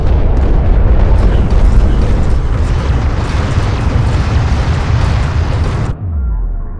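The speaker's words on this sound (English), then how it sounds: "Armored vehicle has been destroyed." An armored vehicle exploding in the video game Homeworld: Deserts of Kharak, a loud, sustained rumbling blast that roars heavily for several seconds before cutting off abruptly, leaving a low fading rumble.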